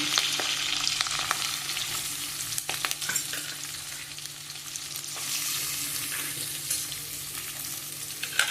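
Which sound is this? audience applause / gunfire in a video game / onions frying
onions frying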